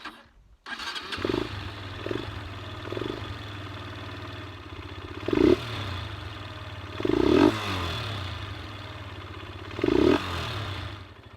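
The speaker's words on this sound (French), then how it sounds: "j'ai effectué plusieurs accélérations et conservé la meilleure" Honda XLR125R motorcycle single-cylinder engine fitted with a PZ27 carburetor and foam air filter, idling close by and revved in several sharp bursts that drop back to a steady idle.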